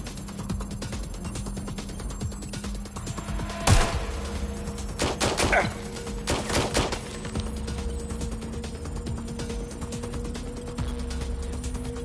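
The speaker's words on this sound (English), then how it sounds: "I'm hearing gunfire." A few sharp gunshot bursts crack out near the start and middle over a steady mechanical hum, then the scene settles back to a low drone, in the video game Watch Dogs: Legion.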